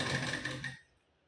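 Sewing machine running a half-inch seam on a blouse, a brief fast whirring stitch burst that cuts off abruptly into quiet.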